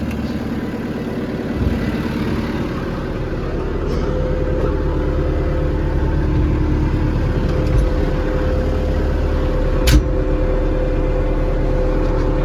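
Tractor engine running steadily through pre-sowing cultivation of a soybean field, a loud continuous low drone with a slight rise in load partway through and faint clicks over the top.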